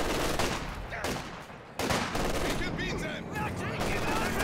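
Artillery and gunfire in a Company of Heroes battle, with a 120mm mortar throwing up dust and debris: dense bursts of shots and heavy blasts, loud and continuous, with a brief lull in the middle.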